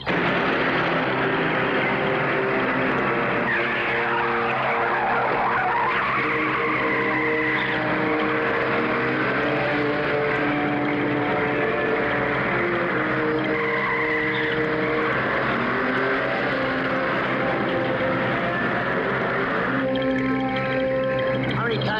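Tires of a speeding Porsche 911 squeal and skid during a chase, with long wavering screeches and loud engine roar filling the whole stretch, and a voice briefly audible underneath.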